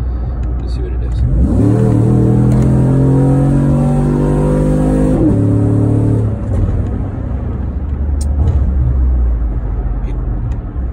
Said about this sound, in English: see how it downshifts with the torque converter off